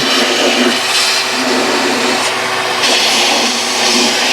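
A wet-dry vacuum sucks grit and leftover fluid out of a bus, a steady loud roaring drone with slight surges, alone without talk.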